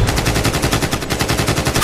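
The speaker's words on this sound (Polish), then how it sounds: "usłyszeliśmy serię strzałów" A rapid burst of gunfire rendered as a sound effect in a Polish audio drama, continuous loud automatic shots rattling steadily for about two seconds with no voices.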